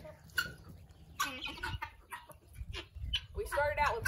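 A Lavender Orpington hen gives several short clucks and calls in separate bursts, close by, while people talk nearby.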